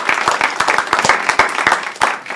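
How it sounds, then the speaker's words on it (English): A keynote audience at a Black Excellence event in Alamosa applauds, a loud round of dense clapping with distinct sharp claps throughout, sustained and fairly close. "Let's give him a round of applause."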